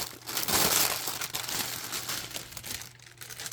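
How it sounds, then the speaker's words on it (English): Plastic packaging around a seam binding purchase crinkles and crushes in a steady, fairly loud rustle for a few seconds, easing off toward the end. "hold on while I do all my crinkling"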